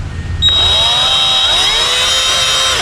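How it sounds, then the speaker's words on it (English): A power drill bores a pilot hole in metal in a garage during a four-barrel carburetor swap, a loud, steady high whine that starts abruptly and holds for a few seconds. "We'll start a pilot hole."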